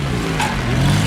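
Car engine revving hard with the gas floored during off-road driving, a loud, close, continuous drone with rising pitch over about a second, no talking.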